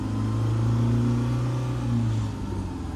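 A used car's engine idling with a smooth, even hum and low steady rumble close by, swelling slightly before easing off.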